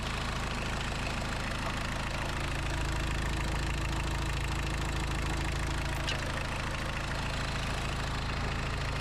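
Suzuki Samurai with a 1.6 turbo diesel engine idling slightly rough, a loud, close, steady low rumble with a faint knocking pulse throughout, no talk.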